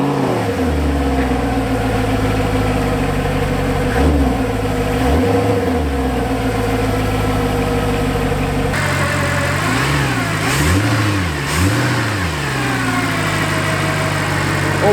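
A hand-built, naturally aspirated 6.3-liter V8 in a Mercedes-Benz SLS AMG fires up loudly and settles into a deep idle, then gets several sharp revs that rise and fall in quick blips, close and alone.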